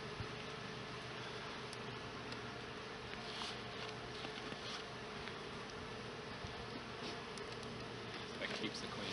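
Honey bees swarm around an open hive fitted with a queen excluder during hive work, giving a steady, dense, soft buzzing that continues unbroken throughout.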